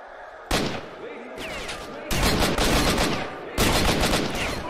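Enemy gunfire in the video game STALKER, three loud, close bursts of rapid shots cracking out in quick succession, separated by short gaps of ambient noise.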